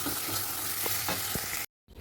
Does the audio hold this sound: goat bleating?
no